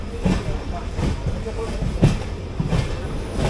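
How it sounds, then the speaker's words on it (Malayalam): The Haripriya Express sleeper-class train pulls into Hubballi junction platform 1, heard from on board: a steady, loud rolling rumble with rhythmic clickety-clack wheel beats throughout. "ശ്രീ സിദ്ധാരൂഢ സ്വാമി ഹുബ്ബള്ളി ജംഗ്ഷനിലേക്ക് പ്രവേശിക്കുകയാണ് നമ്മുടെ ട്രെയിന്"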